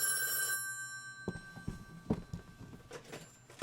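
A telephone bell rings loudly at the start and then breaks off, followed by scattered knocks and handling clatter.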